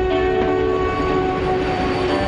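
A retro train runs on the Circum-Baikal Railway near Lake Baikal, a steady close rolling rumble with sustained tonal hum throughout.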